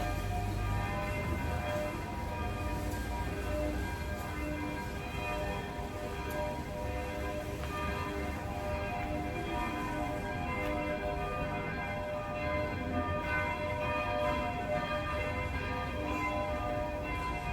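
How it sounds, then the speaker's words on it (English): Church bells peal continuously from some distance, sustained overlapping tones holding at an even level with no pauses, over a steady outdoor background. "Church bells."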